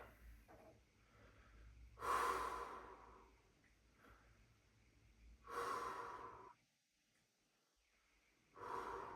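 Three slow, deep breaths from a dancer stretching, each a loud, close exhale through the nose and mouth, separated by quiet pauses with no talking.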